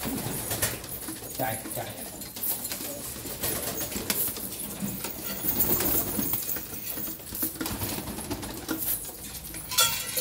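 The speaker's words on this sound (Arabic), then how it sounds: "طبعا دائما انا بحاول اشبع الحمام كثير" Pigeons coo in a loft with some fluttering and shuffling, while a man calls out nearby over the steady murmur of the flock.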